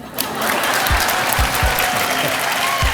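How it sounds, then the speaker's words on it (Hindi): A studio audience applauds steadily throughout at a Hindi TV game show, dense clapping close and full with a few deeper thumps, no talk over it. "तालियां।"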